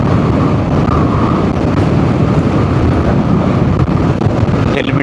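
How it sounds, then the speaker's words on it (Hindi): Strong wind buffets a motorcycle helmet during a ride, a loud, continuous rushing roar with steady low rumble and no break. "हेलमेट से टकराती हुई हवा जो है उसकी गूंज मुझे यहाँ पर सुनाई दे रही है"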